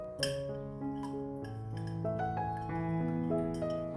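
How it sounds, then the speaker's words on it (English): A teaspoon stirs half a teaspoon of sugar into a plant feed for a peace lily, producing bright ringing clinks against the container that overlap and sustain, close and fairly quiet, without speech. "Grab half a teaspoon and stir it in."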